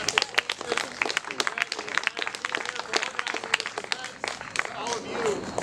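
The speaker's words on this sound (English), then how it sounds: "another round of applause for Sean and Jeff for those fantastic speeches" A modest outdoor crowd at a public power festival in Ann Arbor claps for the speakers, distinct individual hand claps popping in an uneven rhythm, with a voice speaking over the applause.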